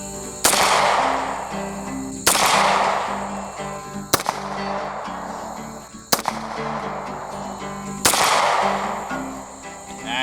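Five loud, close pistol shots from a Stoeger Cougar 8040F in .40 S&W, fired at a 10-yard target at a range, spaced about two seconds apart with ringing decay after each.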